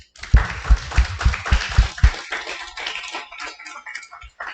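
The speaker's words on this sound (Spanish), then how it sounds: "¿Cuántos le pueden dar un aplauso al Señor?" A church congregation claps together during a Sunday service, a dense burst of applause that fades after a couple of seconds into scattered claps and soft murmuring.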